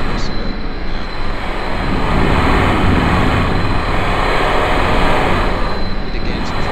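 Aircraft engines in Kerbal Space Program power a stock-built plane taking off from water near an aircraft carrier, producing a loud, continuous, broadband roar that holds steady throughout.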